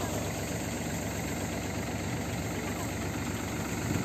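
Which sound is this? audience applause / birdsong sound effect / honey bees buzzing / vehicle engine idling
vehicle engine idling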